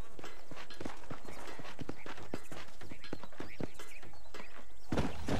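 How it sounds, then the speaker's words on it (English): Horses' hooves from the game Red Dead Redemption, a steady clip-clop of several animals walking close by at an even rhythm, with faint ambient noise behind and no talk. "These are fine horses."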